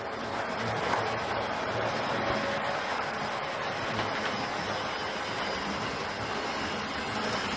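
An Airfix model railway train with a Royal Scot locomotive in BR livery runs steadily along its track, a continuous close rattling rumble with a faint clickety-clack that holds an even level from start to finish.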